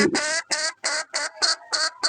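A laying hen that is about to lay gives a rapid series of about seven evenly spaced, loud, close calls in a steady rhythm with brief gaps between them.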